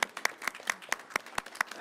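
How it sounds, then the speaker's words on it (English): An audience at a city council meeting claps steadily, individual claps landing in an even rhythm, moderately close with no voices over it. "I think Marion Stewart deserves a round of applause for all her hard work."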